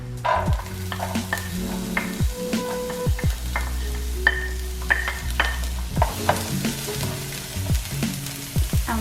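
Green peppers and white onions fry in coconut oil in a non-stick skillet, a close steady sizzle punctuated by frequent spatula scrapes and clinks, with no voices.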